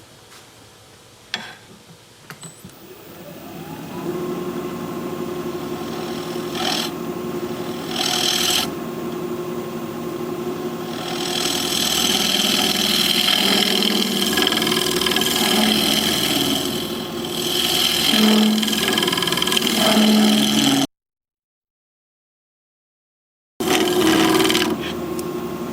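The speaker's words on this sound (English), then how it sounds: "I'm going to have to use my scraper" A woodturning scraper cuts weathered mountain mahogany spinning on a lathe, giving a loud, sustained rasping scrape over the motor's steady hum, with short breaks where the tool lifts off and one full stop.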